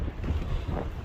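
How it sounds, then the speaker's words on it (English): Strong wind gusts across a hilltop, buffeting the microphone in a steady, dense low roar for the full second, with no voices. "It's windy!"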